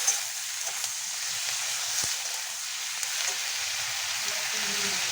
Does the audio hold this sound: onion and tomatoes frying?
yes